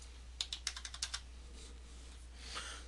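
Quick burst of keystrokes on a computer keyboard, about eight crisp clicks in an uneven rhythm over the first second, close and fairly quiet, followed by low room hum and a soft rustle.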